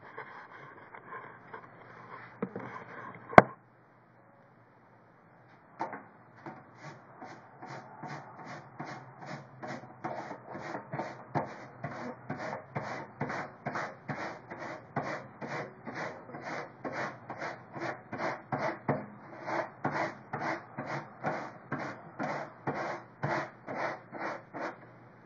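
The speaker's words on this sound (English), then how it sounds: "I'm basically just scrubbing where I saw the tea herbs on the filter" A tea filter scrubbed clean of tea herbs in rapid, regular rubbing strokes, a rhythmic scratchy rasp that starts after a short pause with a sharp knock and builds slightly louder over time.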